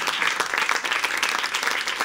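Studio audience applauding with steady, dense clapping for about two seconds, loud and continuous without a break.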